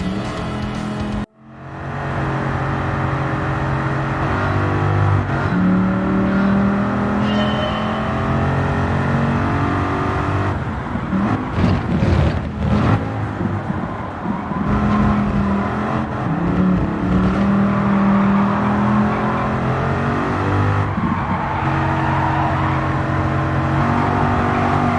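A mid-engine car laps the wet Tsukuba circuit in Gran Turismo 7, its engine droning loudly and continuously with rising revs and gear changes, plus a brief cut near the start.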